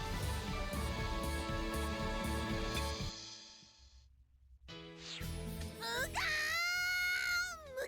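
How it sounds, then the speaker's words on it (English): A character in the video game Class of Heroes 2 lets out a loud, high, wavering scream after a brief pause in the game's music. "Wow, that was quite the scream"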